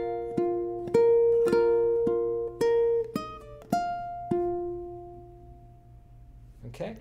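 A ukulele plucks the first three bars of a theme, about nine clear single notes ringing out in a steady rhythm and decaying, played close and alone.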